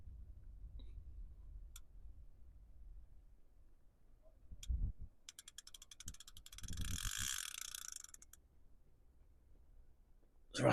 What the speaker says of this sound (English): There's a ratchet going there.